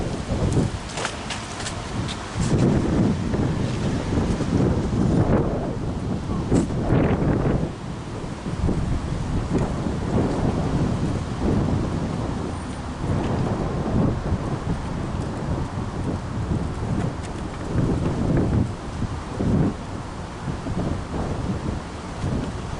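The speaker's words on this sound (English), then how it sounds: "The wind got the best of me that time." Strong wind buffeting an outdoor microphone at a camp closing, a continuous loud rumbling roar with gusting surges throughout, no speech.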